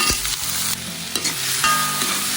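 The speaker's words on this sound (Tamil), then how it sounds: "அதை போட்டு நல்லா வதக்கணும்" Tomatoes sauté in a pan with pepper and garlic while crab is cooked for an omelette, gravy and fry, giving a steady close sizzle with frying crackle and the scrape of a spoon being stirred through.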